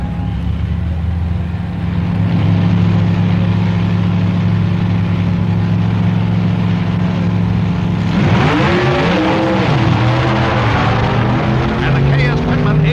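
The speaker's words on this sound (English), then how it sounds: "And the KS Pitman A-Gas Supercharged Coupe blows by another Stone, Woods, and Cook entry for the class honor." Supercharged A-Gas coupe drag racing cars roar at the 1965 NHRA Winternationals, with a loud, steady engine drone and then a sharp, pitch-sweeping pass-by, under a narrator's voice.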